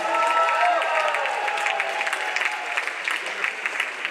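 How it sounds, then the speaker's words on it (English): Crowd at an outdoor Juneteenth celebration in Simsbury, Connecticut giving a round of applause, loud and full at first and then thinning slightly, with a few cheers and murmuring voices woven through. "Give them another round of applause"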